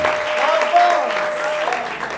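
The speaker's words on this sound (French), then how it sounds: "Est-ce que tu peux applaudir?" Congregation applauding during a church service, a steady patter of clapping lasting a couple of seconds at moderate loudness.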